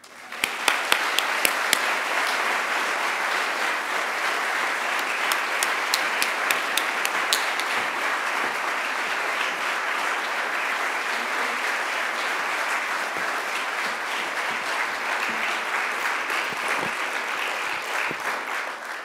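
Sustained applause from a lecture audience welcoming speaker Sherri Mitchell, dense steady clapping filling the room with a few sharper individual claps at the start, holding evenly for nearly twenty seconds.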